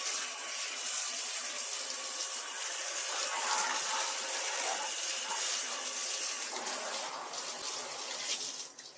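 Tap water runs steadily into a basin for a pet's bath, a continuous close rushing splash with no pause and no talking.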